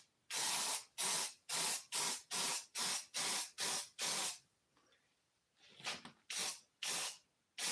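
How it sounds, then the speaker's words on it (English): Short bursts of clear foam adhesive spray hiss out one after another in a quick rhythm while recovering an airplane seat, pausing briefly before a few more sprays. "all I'm gonna do is spray this right here. You can see it's just a clear foam adhesive."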